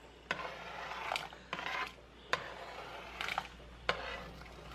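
Chopped celery, carrots, a small onion and two garlic cloves go into a pot for ham, potato and bean soup, with a few sharp clacks of a utensil against the pot between soft stirring scrapes and a faint sizzle.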